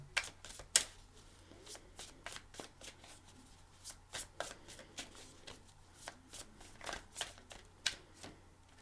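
A deck of tarot cards being shuffled by hand, a steady run of soft, crisp riffles and taps heard up close in a quiet room, with no voices.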